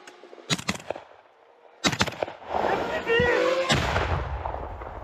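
Loud artillery blasts boom at a combat front, two sharp clusters of explosions followed by a long rumbling roar, with voices shouting amid the firing.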